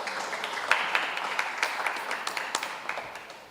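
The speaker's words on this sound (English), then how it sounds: "give the corporate community a round of applause for that" A modest round of applause at an annual general meeting of a council on ageing, scattered claps from a small audience, moderately loud and thinning out toward the end.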